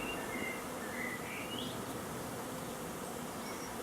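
A honeybee swarm being captured hums in a steady, dense buzz throughout, fairly faint, with a few brief higher whines of individual bees drifting past.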